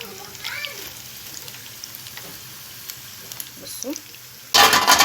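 Potatoes frying crisply in hot oil: a soft, crackling sizzle with scattered pops under a voice, then a sudden loud surge of hissing near the end.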